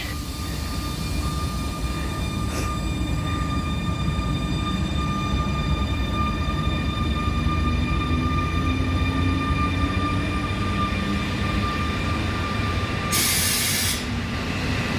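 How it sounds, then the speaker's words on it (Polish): An Intercity train named Szymdzielnia, bound for Bielsko-Biała, rumbles loudly and steadily through Opole Główne station at close range, with sustained wheel and motor roar and a steady tonal whine throughout. "przejeżdża Szymdzielnia na Bielska Białej"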